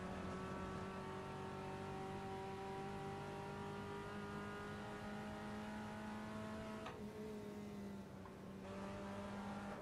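A Volkswagen Passat touring race car from the Automobilista racing game drones steadily at high revs, a buzzy engine tone that breaks briefly for a gear shift and then pulls on, with no talking.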